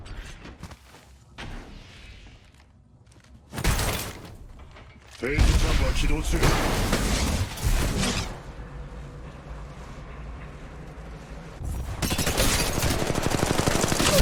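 Gunfire in the Apex Legends Mobile video game, with bursts of automatic fire and heavy shots in loud waves amid game noise, some stretches quieter, with a voice talking over parts of it.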